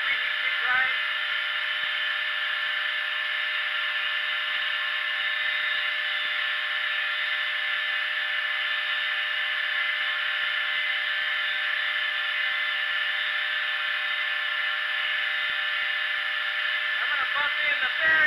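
A belt grinder cutting a knife bevel with a jig at 120 grit, a steady loud whirring grind that runs unbroken and evenly for the whole stretch.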